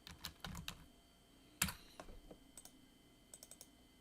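Close typing on a computer keyboard, with quick bursts of clicking keystrokes, a sharper clack partway through and a few scattered taps near the end, alone with no talk.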